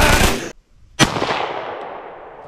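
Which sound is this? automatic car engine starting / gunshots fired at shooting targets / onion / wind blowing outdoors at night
gunshots fired at shooting targets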